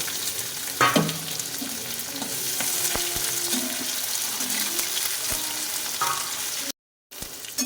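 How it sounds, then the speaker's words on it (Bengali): Onions sizzle steadily in hot oil with a soft crackle, broken by a few sharp clinks of a utensil against the pan, then a brief silence. "এবার পেঁয়াজ দিচ্ছি"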